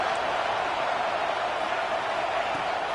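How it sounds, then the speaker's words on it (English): Football stadium crowd at a Kentucky versus Arkansas game roaring loudly as the home defense defends near the goal line, a dense, steady wall of cheering noise with no break. "Listen to this crowd just shaking the girders of this place, trying to help their defense."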